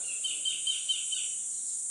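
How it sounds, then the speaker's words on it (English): Faint, high chirping birdsong in a quiet beach resort setting in the Philippines, soft repeated calls over a steady hiss. "Silence, just birds."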